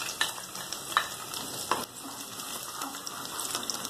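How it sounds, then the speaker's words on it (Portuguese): Thinly sliced garlic cloves fry quickly in very hot fat, a soft steady sizzle with a few sharp clinks and stirring taps from a utensil, fairly quiet and close, without speech. "Vou fritar."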